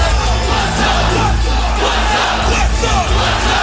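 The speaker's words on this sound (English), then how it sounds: "the crowd is just in a fever pitch for the anticipation of this star-studded event" A dense wrestling arena crowd at a TNA Impact event roars, cheers and yells continuously at full volume, close and enveloping, with no clear talk over it.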